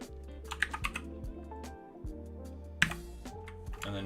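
Rapid bursts of close computer keyboard typing, with clustered clicks and short pauses between runs of keystrokes, ending in a sharper key tap; no voices.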